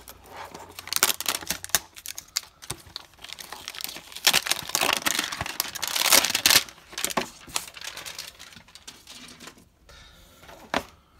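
Cellophane wrapping on 2018 Score trading card packs crinkles and tears up close in bursts of crackling and rustling, loud at times, with brief pauses and no talking.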